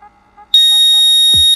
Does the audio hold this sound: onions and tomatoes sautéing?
no